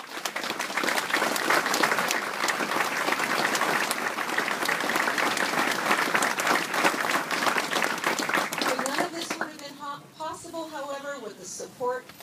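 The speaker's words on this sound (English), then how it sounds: "I want right now to give a round of applause to the Garrison Bamberg employees." An audience at the closure ceremony of the US Army Garrison Bamberg gives a long, loud, dense round of applause for the garrison employees, which fades after about nine seconds as a speaker resumes talking.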